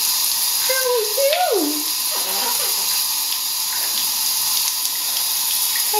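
Shower water runs loudly and continuously in a steady broadband hiss, with a brief rising and falling voice-like whine near the start.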